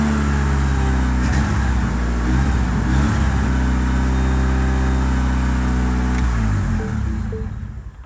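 A Mini Cooper with a swapped 4G63 engine runs steadily and rises a little under light throttle, a loud close mechanical drone that eases off at the end.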